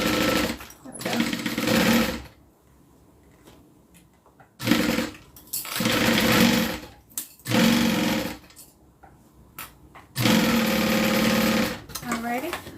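A sewing machine stitches a mini zip-around wallet in several bursts of rapid, buzzing running, separated by pauses, with brief speech in the gaps.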